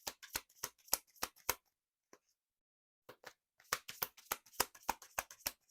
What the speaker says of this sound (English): I might have to just cut the deck.